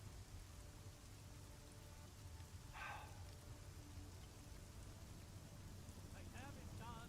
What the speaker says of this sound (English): Enough rain to drown a duck.